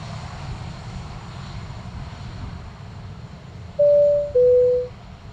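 A low, rumbling aircraft engine drone during a landing at Dublin Airport, with two short, loud electronic tones stepping down in pitch near the end.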